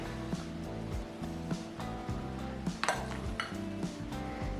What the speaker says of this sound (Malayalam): ഞാനിവിടെ ഒരു സ്പൂൺ ഉപയോഗിച്ചാണ് കോരിയെടുത്തത്.